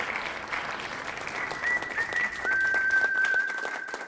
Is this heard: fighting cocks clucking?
no